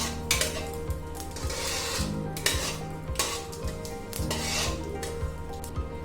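Poppy seeds roasting in ghee over low heat for panjiri, stirred in a metal pan: steady rhythmic scraping of a spoon against the pan with a faint sizzle underneath, close and clear, no talking.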